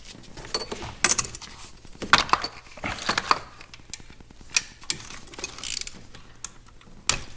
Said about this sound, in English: There's one more bolt right here that I missed. It's right underneath the dipstick. We gotta get that out.